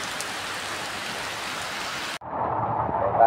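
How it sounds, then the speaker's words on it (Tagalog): Heavy downpour near a mango stall and parking area roars loudly and steadily, then cuts abruptly to a duller, muffled rush of rain for the final second. "napakalakas ng ulan"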